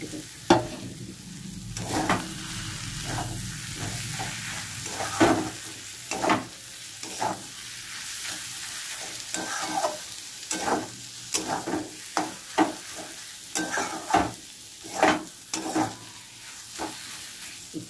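Loitta fish fries in a pan with coriander leaves as a spoon stirs it, bursts of sizzling and repeated scraping knocks against the pan, close up, with no voices.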